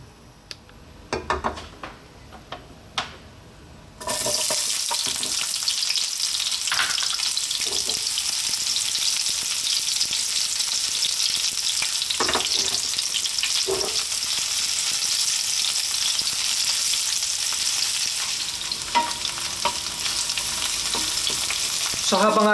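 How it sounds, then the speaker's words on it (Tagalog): White onion frying in hot oil for Filipino bistek, a loud, steady sizzle that bursts in after a few seconds of quiet clinks and holds for the rest of the clip, with no talking. "pag mainit na po yung mantika, umpisa na po nating lutuin yung ating white onion."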